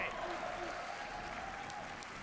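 An audience at Summer Game Fest claps for Clair Obscur, a steady wash of applause that stays even and moderately loud throughout, with a faint tone running beneath it.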